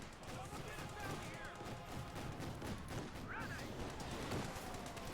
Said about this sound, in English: Shots fired down the armour of the Stuart light tank.